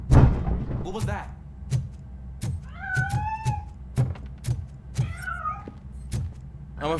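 Cat meowing in the video game RoboCop Rogue City, several drawn-out rising meows spaced apart over a busy game soundscape with clicks and knocks, with a voice speaking between them.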